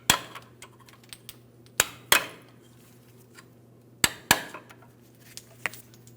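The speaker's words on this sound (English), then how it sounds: "Now let's see if we can tap the bolt out of position." Hammer blows ring on a steel bolt in the front upper control arm bushing of a 2007-2014 GMC Sierra 2500 HD, two paired clusters of sharp metallic strikes with light taps between, close and clear, no talking.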